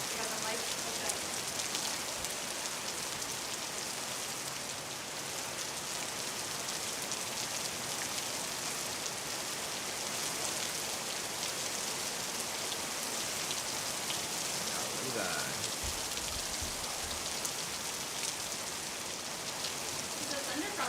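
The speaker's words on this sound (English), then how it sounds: "Hopefully you can hear the rain." Steady rain falls and patters on surfaces, a constant wash of hiss with no voices, moderately close and even throughout.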